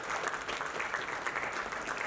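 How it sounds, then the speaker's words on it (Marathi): An audience at a Star Pravah television channel stage event applauds, a dense, even wash of clapping from many hands that holds steady throughout, fairly distant and without voices. "एकदम जोरदार टाळ्या झाल्या पाहिजे"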